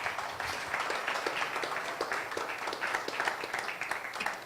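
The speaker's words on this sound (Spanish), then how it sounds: "Dale un fuerte aplauso al Señor." A church congregation applauds in praise, a steady crowd clapping of many hands that fills the space evenly, moderately loud and without talk over it.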